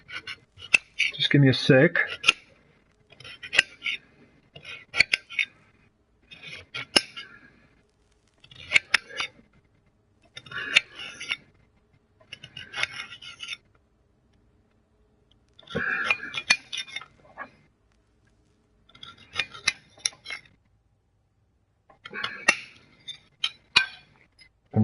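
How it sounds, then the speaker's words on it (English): Knife chopping carrots on a board, heard as short clustered bursts of sharp crisp cuts separated by pauses. A person speaks briefly between the chops. "I'm just chopping up some carrots"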